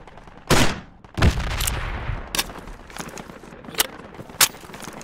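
Gunfire in the military shooter Project Reality cracks out as a few sharp, loud reports, the first two heaviest with a rumbling tail, then smaller distant shots spaced irregularly.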